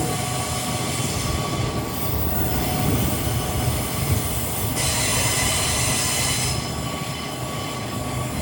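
Jungle train in Malaysia rolling toward a railway station, a steady loud rumble of wheels on track with metallic squeal and hiss, heard from on board with no voices.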